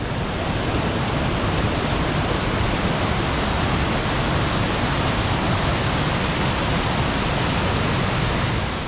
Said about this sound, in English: go by a very active waterfall